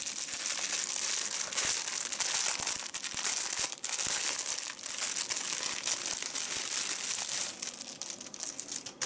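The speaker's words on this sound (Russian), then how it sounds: "Как тебя вскрыть-то, пакетик?" Someone works open a plastic parcel packet from China, producing constant loud crinkling, crumpling and tearing of plastic up close, with sharp snaps and rustles over nine seconds.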